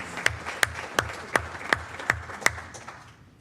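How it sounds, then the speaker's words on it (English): An audience applauds at a board of education meeting. The clapping is moderate and fairly sparse, with a few sharp distinct claps standing out over a softer patter before fading away. "And one more round of applause for our North Cluster principals."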